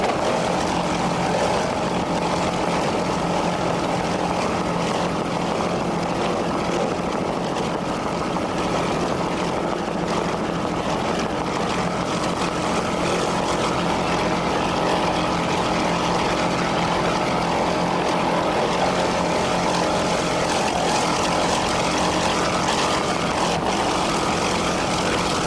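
A 26-foot Scarab powerboat races in a 1994 Sarasota offshore event, its engines roaring in a loud, continuous drone that holds steady throughout with no talk.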